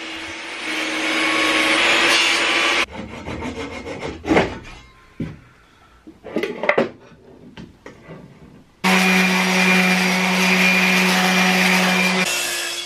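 A wooden box is cut open with a power saw. Two long, loud, steady cuts whine through the wood, and a quieter stretch of scraping and handling knocks comes between them.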